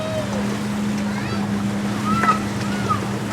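A 1965 antique boat, all original, motoring on Lake Hopatcong with a steady low engine drone and water and wind noise around it, with a voice heard over it.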